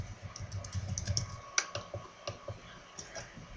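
Someone types a full name on a computer keyboard, a close run of quick, uneven key taps with a few louder clacks mixed in, steady over several seconds with no talking.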